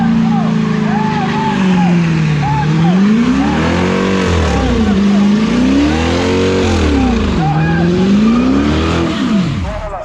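BMW and Mopar cars doing donuts and burnouts at an exotic car meet: a loud, close engine whose revs rise and fall in repeated sweeping waves, with tire noise and people talking in the background.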